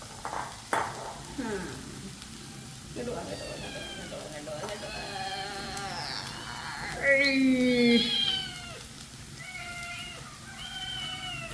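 A cat meows several times, its high wavering calls rising over a steady kitchen sizzle and quiet background voices.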